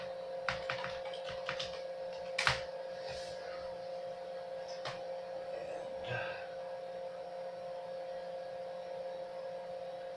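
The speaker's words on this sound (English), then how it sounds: "Yep, definitely don't know how to type in my password" Typing on a computer keyboard at a PC with a Taichi X370 motherboard: a handful of scattered light key clicks over a steady electrical hum, fairly quiet.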